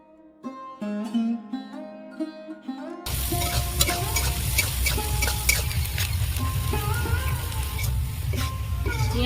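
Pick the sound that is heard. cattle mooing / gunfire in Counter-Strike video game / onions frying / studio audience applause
onions frying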